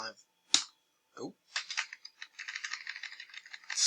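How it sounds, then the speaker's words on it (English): A sticky computer keyboard is typed on in short, uneven bursts of close clicks and clacks, with brief pauses between keystrokes and a faint voice at the start. "sticky keyboard."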